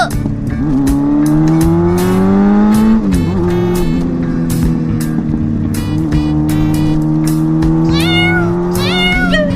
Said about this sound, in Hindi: ये बिल्ली के चीखने की आवाज कहाँ से आ रही है?